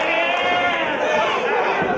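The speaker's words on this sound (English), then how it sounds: "you can hear the crowd definitely getting behind these two" A wrestling arena crowd cheers and clamors steadily throughout, a dense continuous roar of many voices with no clear breaks, filling the whole space.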